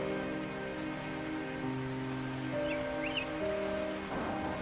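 Cartoon-style rain falling in a forest: a steady, dense hiss of rainfall throughout, with sustained background music tones underneath.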